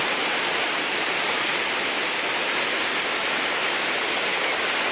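Water pouring over Nekkarekalaya dam in the rain: an unbroken, loud, even rush of falling water, hissing and broad, with no pauses and no voices.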